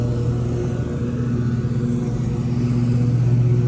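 A vintage Honda 250SX motorcycle engine idles steadily and loudly up close, its low throbbing note holding even throughout without talk.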